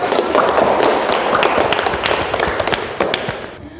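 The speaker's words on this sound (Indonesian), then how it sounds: "Tepuk tangan." Students in a classroom clapping after a group presentation, a dense, steady patter of many hands that holds throughout and tails off slightly at the end.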